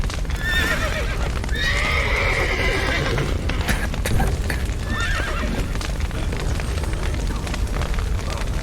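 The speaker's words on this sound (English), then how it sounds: "The horses!" Horses whinny and neigh in the Witcher 3 video game, with clip-clopping hooves and rumbling booms beneath; the neighs come in short bursts over a busy, continuous background.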